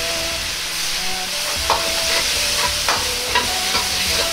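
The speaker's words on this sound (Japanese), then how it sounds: "醤油を香ばしくなるように炒めます。" Soy sauce stir-frying in a pan for mapo daikon, a loud continuous close sizzle with periodic spatula scrapes and taps, no talk.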